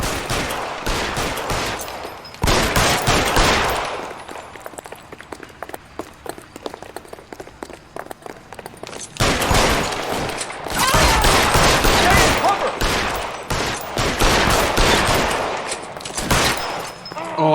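Gunfire in an L.A. Noire shootout: loud bursts of rapid shots from several weapons, spaced by quieter stretches with scattered single cracks, then heavy volleys again toward the end.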